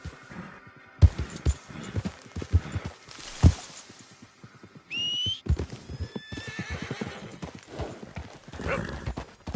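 Hoofbeats of a horse in Red Dead Redemption 2 clatter in a steady clip-clop rhythm, with a whinny near the middle; a voice calls out briefly at the start.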